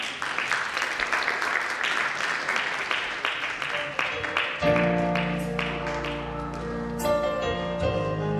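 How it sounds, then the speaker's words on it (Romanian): An audience at a children's stage show for a Mother's Day–style Mărțișor event applauds in a dense burst that fades as a sustained musical tone and voice begin underneath. "Să le aplaudăm!"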